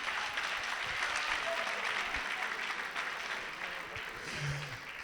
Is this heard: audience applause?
yes